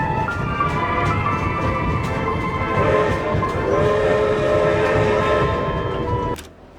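A video game train pulls into a grand snowy city station, its steady rumbling roll and sustained whistle-like horn tones filling the scene loudly before the sound cuts off abruptly near the end.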